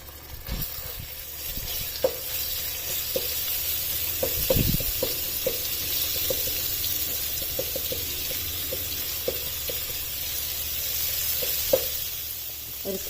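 Garlic ginger paste sizzles in 4 to 5 tablespoons of hot oil in a pan, a steady bright hiss with scattered soft clicks and stirring knocks, close and even throughout with no voices.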